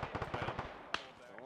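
Rapid gunfire nearby in the video game Arma 3, a quick string of about eight pops followed by a single sharper crack, heard faintly under a speaking voice.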